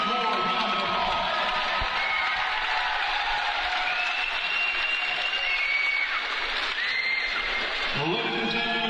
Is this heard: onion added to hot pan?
no